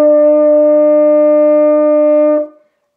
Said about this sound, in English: high A, which is note number three for the horn, is actually a lot higher